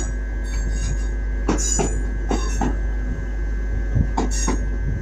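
A Class 156 diesel train arrives at Manchester Piccadilly station, a steady loud engine and rail rumble with repeated wheel clicks and squeals at the joints, heard close on the platform without speech.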